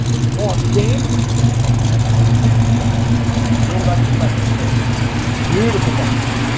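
A 1969 Chevrolet Camaro Z28 with its factory-spec, unmodified V8 idles close by, a steady low rumbling burble that continues throughout.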